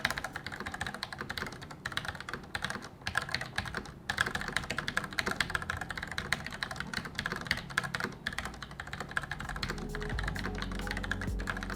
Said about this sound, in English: Now I'm typing on the Outemu red switches.